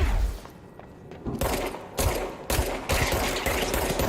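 Heavy gunfire in the game Control, a series of loud booming shots with sharp attacks roughly every half second, ringing and overlapping in a reverberant space, with no talk.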